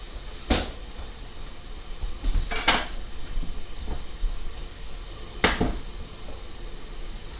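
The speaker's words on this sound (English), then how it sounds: "give that a spin with a stirring rod" Onions pre-cooking in a pot for shrimp pasta primavera, stirred with a metal rod that gives three sharp clanks against the pot over a low sizzling background, no talking.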